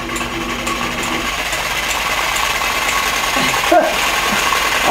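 A Sawzall reciprocating saw running at low speed with a mixing attachment clamped in, stirring a can of paint; a steady, close mechanical drone holds throughout, rising slightly in level toward the end.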